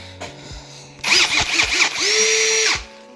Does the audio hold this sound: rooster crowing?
no